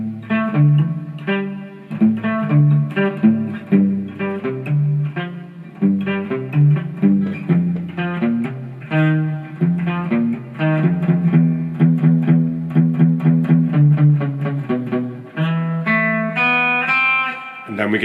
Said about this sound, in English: So, put it all together, play it as it is, and it should sound like this.